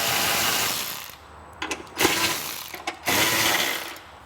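A ratchet fitted with a 10mm socket loosens the seat fasteners on a modern Vespa scooter, giving bursts of quick clicking ratchet strokes with short pauses between them, close up and with no speech.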